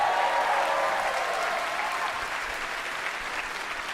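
Audience applause welcoming a singer on stage at a high school jazz band event, sustained and dense clapping from a sizable crowd that holds steady for the whole stretch with no voices over it.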